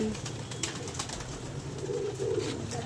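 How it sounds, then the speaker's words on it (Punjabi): Pigeons cooing at a rooftop loft, repeated soft low coos near and steady over a constant background hum, with a few faint taps. "ਕਬੂਤਰ ਡਰ ਕੇ ਉੱਤੇ ਚੜ ਜਾਣਗੇ"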